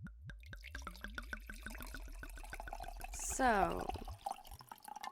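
Wine is poured into a glass indoors, a quick series of gurgling glugs and drips that rise in pitch as the glass fills, with brief quiet talk near the start and a clink near the end.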